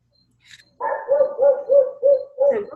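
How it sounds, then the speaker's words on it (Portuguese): Dogs bark in a steady run of five or six close, loud barks after a brief faint yip, with no talk over them. "Prenda os cachorros."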